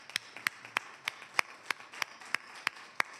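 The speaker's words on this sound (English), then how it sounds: "I just want to give us a round of applause for what we did and to our board" Slow, evenly spaced claps, about ten sharp hits over three seconds, at a commissioners' board meeting, sounding like a single person or a small group clapping at a moderate distance with no talk.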